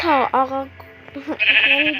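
Sheep bleating in the Minecraft video game: several wavering, nasal bleats in quick succession, loud and close, with a higher-pitched bleat toward the end.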